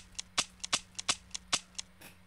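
Gunfire from a weapon in the post-apocalyptic shooter Metro Exodus, a rapid run of sharp, close shots at irregular spacing, loud and dry against a faint low hum.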